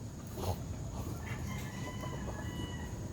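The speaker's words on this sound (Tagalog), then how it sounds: "Ang laking manok, oh." A large chicken clucking in a backyard coop, faint and somewhat distant against steady outdoor background noise, with a few brief calls rising above the hum.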